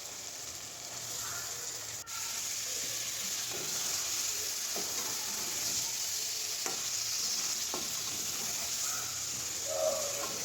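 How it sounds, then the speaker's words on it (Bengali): Beef pieces sizzle and fry in a pan of spice paste cooked with raw turmeric, the paste sticking to the bottom, with occasional scraping stirs over a steady hiss; no talking. "বেশ অনেকক্ষণ ধরে মশলাটা কষিয়ে নিয়েছি, তলায় লেগে লেগে যাচ্ছে। এবার আমি মাংসগুলো দিয়ে দেবো।"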